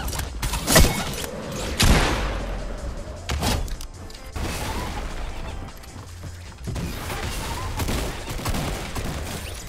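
Grenade launcher blasts in the Fortnite Chapter 2 video game: a rapid series of loud booming explosions and thuds over about ten seconds, with mechanical clatter between, dense and close.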